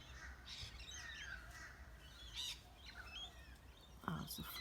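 A flock of birds calls outdoors, with crow-like caws and chirps spread through the clip, fairly faint and distant, ending in a few louder nearby calls.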